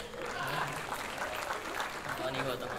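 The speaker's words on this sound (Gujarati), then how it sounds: "ધ્વની ગૌતમ માટે તાળીઓ થઈ જાય." Audience applause fills a comedy roast show for Dhvani Gautam, a steady, fairly faint wash of many hands clapping throughout with light crowd murmur mixed in.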